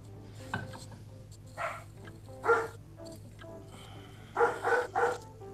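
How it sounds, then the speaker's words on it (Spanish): Several dogs bark in short bursts at a distance outdoors, with a few scattered yelps and then a quick cluster of three barks toward the end over a low background hum. "mis perros igual siempre ladran cuando pasa alguien"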